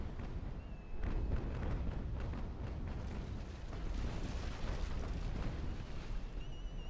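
Cannon fire striking a sailing warship in the Naval Action naval combat game, a continuous rumbling barrage of dull booms and crashing impacts at moderate level, with a faint tone running above it.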